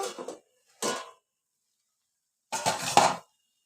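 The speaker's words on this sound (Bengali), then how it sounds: "এখন আবারও ঢেকে দেব।" A lid is set over a cooking pot of simmering grass pea leaf curry, giving a few short metallic clinks and clatters in three separate bursts, fairly close, with quiet gaps between and no talking.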